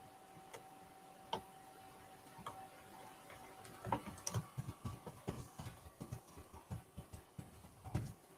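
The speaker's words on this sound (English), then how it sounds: "Typing up that email and sending it out." Quiet, irregular clicking of keys on a computer keyboard being typed on, sparse at first and then a denser run of faint taps.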